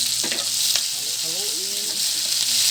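Shrimp sizzle in a hot pan with pepper leaves and crushed pepper as a utensil stirs them, a loud continuous fry with scraping strokes and bubbling, no talking.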